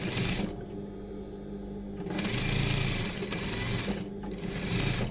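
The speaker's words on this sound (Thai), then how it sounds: "เย็บย้ำถ้าผ้าหนามากให้เราใช้มือหมุนเอาได้นะ" A sewing machine runs steadily on a jeans leg, its motor a continuous close whir with slight shifts in pace while the denim is stitched.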